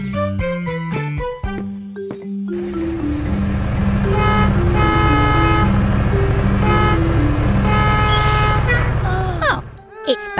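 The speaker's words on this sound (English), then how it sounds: "It's Barry the bus." A cartoon bus honking in a children's animated garage show, repeated bright toots over a loud engine rumble and jingly music, with character voices before and after.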